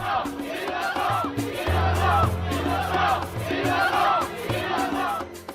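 An angry crowd at a trial verdict shouting in rhythmic bursts, a dense mass of raised voices rising and falling, with a low droning hum underneath part of the time.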